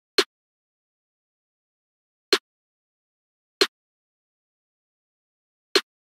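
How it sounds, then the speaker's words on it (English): Four sharp, isolated snare hits of a standard UK drill snare pattern, spaced irregularly over silence and played alone. "So this is just a standard drill snare pattern."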